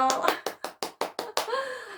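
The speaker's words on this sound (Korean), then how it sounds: "우리 박수로 환영할까요?" A church middle-school youth group claps to welcome the new year, seven sharp, evenly spaced hand claps in a quick rhythm, followed by a voice speaking.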